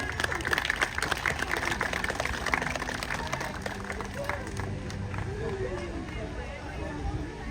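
Audience applause at a sea lion show at Blackpool Zoo, a dense continuous patter of many hands clapping that carries on steadily, with crowd babble and some talking mixed in.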